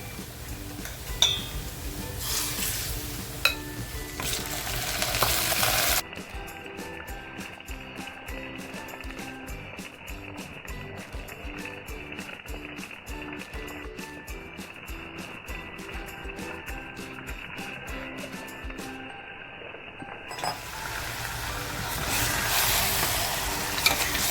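Mutton pieces added to onions fried reddish-brown in a pan for traditional kala mutton sizzle steadily and broadband for most of the clip, a continuous close frying hiss that briefly drops out before resuming.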